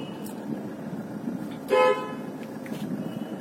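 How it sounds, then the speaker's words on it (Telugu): A single short car horn honk sounds briefly over a low, steady road rumble on a city road. "నాకు వెనక ఎవరు వస్తున్నారు ఏంటో తెలియదు కాబట్టి నేను హారన్ కొట్టి వాళ్ళకి నేను ఇండికేట్ చేస్తాను"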